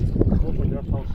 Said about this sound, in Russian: ветер какой сильный